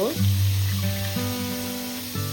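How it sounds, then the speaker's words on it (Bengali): Long-cut potato slices fry in hot oil with black cumin, a constant close sizzle with low tonal hum beneath it and no talking. "আলুটা একটু লাল লাল করে ভেজে নেব"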